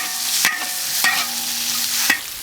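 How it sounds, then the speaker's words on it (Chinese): Scallion, pickled chilies and sour bamboo shoots are stir-fried in a wok over a constant loud sizzle, punctuated by three sharp metallic spatula scrapes spaced about half a second to a second apart. "把这个炒香"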